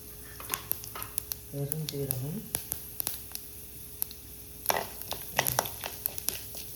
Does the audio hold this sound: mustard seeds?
yes